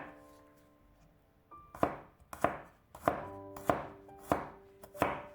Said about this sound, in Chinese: 给它切成蒜片